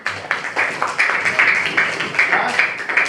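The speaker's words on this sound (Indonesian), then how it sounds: "Oke, berikan tepuk tangan." A class claps in scattered, uneven bursts of hand applause in a room, moderately loud, with a voice talking over it.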